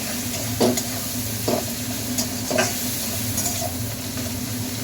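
Spice paste for aloo dum sizzles steadily in a pan while a utensil stirs it in a few distinct scraping strokes, close and moderately loud, with no voices.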